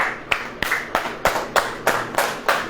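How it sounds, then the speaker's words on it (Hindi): An audience claps together in a steady, even rhythm during a religious sermon, with about nine crisp, evenly spaced claps at close range and no talking. "ताली बजाइए से"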